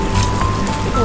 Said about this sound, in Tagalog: Lakas ang ulan mga ka-shekels